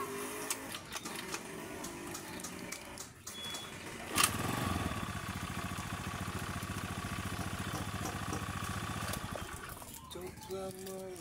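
A motorcycle is kick-started and its engine catches at about four seconds, then runs at a steady, fairly loud idle that stays close by; faint talk comes just before the start, and the bike has recently been worked on.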